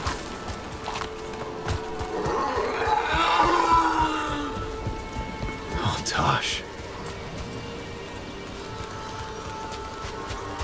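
Steady rain falls in the Dragon Age: The Veilguard video game, a continuous hiss under someone talking, with louder rushing bursts partway through.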